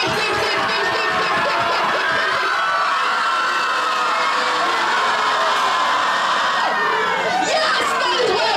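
A show audience screams and cheers in a sustained loud roar of many high, shrill voices, whoops and shouts blending continuously without a break.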